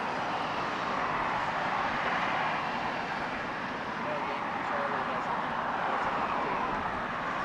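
Airliner engines roar steadily as a jet heads out for takeoff on the south side of Los Angeles International Airport, a loud, broad continuous rumble with a voice speaking over it.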